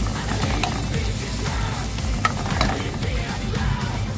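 Garlic frying in a pan for squid adobo, a steady close sizzle with scraping and stirring clicks throughout.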